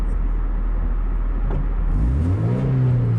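A car engine revs in neutral, a low steady idle that climbs into a rising rev near the end, close and loud.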